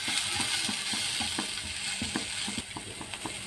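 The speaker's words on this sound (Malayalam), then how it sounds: "ഇനി നമുക്ക് ഒന്ന് ഇളക്കി കൊടുക്കണം" A vegetable moon veg snack mixture being stirred in a pan, rhythmic scraping and clacking strokes of a spoon over a soft sizzle, close and steady with no talk.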